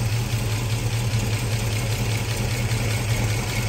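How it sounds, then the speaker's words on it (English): A 1967 Shelby GT350 V8 with solid lifters idles steadily close by, a continuous low rumble with a faint even mechanical tick running through it, no voices. "You can hear that solid lifter motor chatter."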